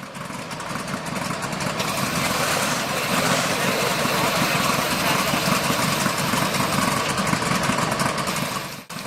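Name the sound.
M18 Hellcat tank radial engine running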